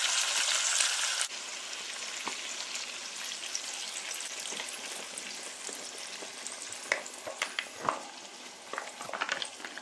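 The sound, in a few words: tilapia fish cooking in coconut milk, sizzling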